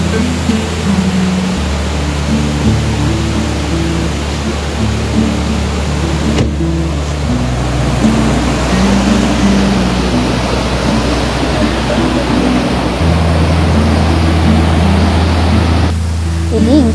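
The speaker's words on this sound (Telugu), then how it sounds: "సూపర్ గా ఉంది, చిన్న క్యూట్ వాటర్ ఫాల్." A small waterfall near Siganduru Chaudeshwari Temple gives off a steady, loud broadband rush of falling water, unbroken for the whole stretch, with a low droning hum running underneath.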